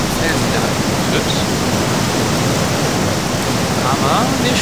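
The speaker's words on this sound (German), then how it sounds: "Ich dachte mal, ich mach mal einen kurzen Abstand hier zu dem Wasserfall" Constant heavy roar of a waterfall in the fantasy game Gothic 2, close and loud, a broad steady wash of crashing water with faint muffled speech buried under it.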